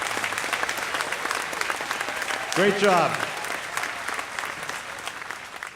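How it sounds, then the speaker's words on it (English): Steady applause from a commencement audience fills the space at moderate volume, with a brief spoken remark and a voice breaking through midway. "Let's give them a round of applause."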